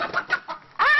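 A chicken clucks in a short series of close, choppy notes, ending in a louder drawn-out squawk.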